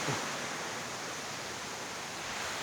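A powerful waterfall, reached on a risky outing, fills the air with a steady, dense roar of rushing water that stays loud and unbroken throughout, with no voices.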